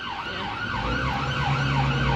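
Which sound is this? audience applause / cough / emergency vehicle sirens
emergency vehicle sirens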